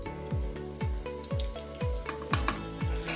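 Chicken frying in a pan of melted ghee and butter for an Afghani karahi, with a steady sizzle under rhythmic bubbling and repeated low knocks, close and moderately loud, no voices.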